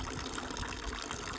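Water splashing and trickling steadily at close range as a dog drinks fresh water on a seaside walk, with no talking.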